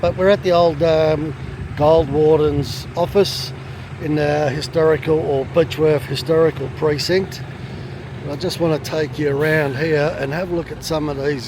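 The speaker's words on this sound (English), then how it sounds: "there's a truck that's just pulled up" A truck idling nearby in a historic gold rush town precinct, a low steady engine drone that runs beneath continuous close-up speech throughout.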